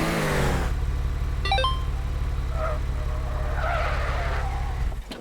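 Racing car in a video game roars at steady high revs through a lap, with brief tyre squeals and skids in the middle, loud and continuous until the engine drops off at the very end.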